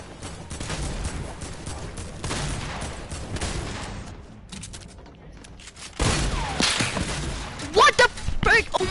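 Sniper shots crack in a shooter video game, sharp and loud over a constant rumble of battle, with a heavier cluster of blasts near the end.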